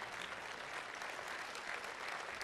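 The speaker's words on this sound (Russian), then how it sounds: "Хороший повод аплодировать, если вы этого хотите" Audience at a Christian sermon applauding steadily, a soft, even wash of many hands clapping at some distance, sustained without a break and with no voices on top.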